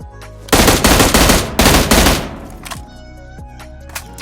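Rapid bursts of M16 automatic fire in the mobile battle-royale game PUBG Mobile, two loud dense volleys close together followed by a few scattered single shots, dominating the mix without talk.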